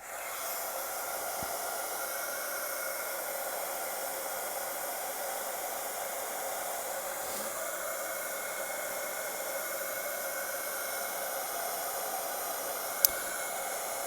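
A dryer blows over craft journal pages in a constant, even hiss of air that holds steady throughout, with only a couple of tiny clicks and no one speaking.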